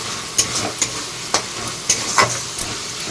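Tomato rice stirring and frying in a pan, with sizzling under a series of sharp scraping clicks from the spoon at irregular intervals, close and alone with no talk.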